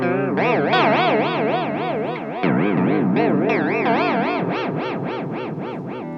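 Guitar run through a Flashback Delay pedal on a Chorus Vibe setting with depth set high, giving a strong wobbling warble that swells and sways over a sustained strummed chord, loud and alone, with a second chord struck midway.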